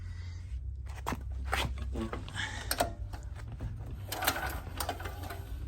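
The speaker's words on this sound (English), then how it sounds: "what we're going to do is slowly cycle that piston up and down" A small generator engine's piston is slowly cranked up and down by hand with the spark plug wire reconnected, giving soft mechanical clicks and rattles over a low steady hum, fairly close.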